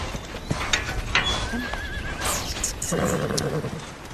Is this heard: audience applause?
no